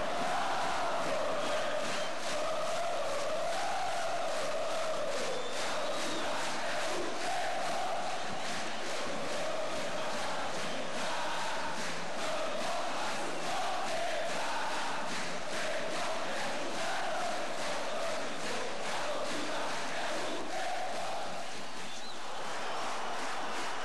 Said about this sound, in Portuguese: vozes apaixonadas cantam o tão conhecido grito de guerra da galoucura